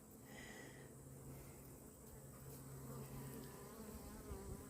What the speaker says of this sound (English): these are just worker bees